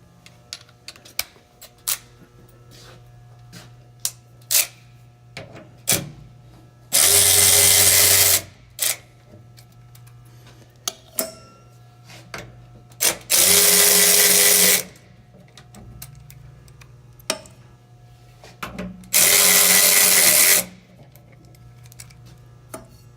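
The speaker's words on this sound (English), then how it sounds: "get the ratchet out." Hand ratchet clicking as bolts are loosened during preventive maintenance on a MiTek saw, with irregular sharp clicks and three long, loud bursts of a power tool or motor running in between.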